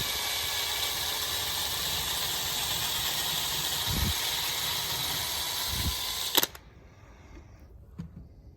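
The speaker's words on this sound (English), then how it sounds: "just take your 1/8 inch drill bit, and we're going to drill right down in the center of that" A 1/8 inch drill bit bores slowly into a stripped jet in a small engine carburetor, giving a steady bright high-pitched whine that runs unbroken for over six seconds, then cuts off abruptly into near silence with a couple of faint clicks.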